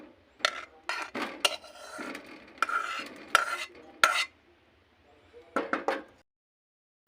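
A spoon crushing fried dry red chillies in a bowl, sounding as a series of close, irregular scraping and grinding strokes separated by short pauses, with no talking.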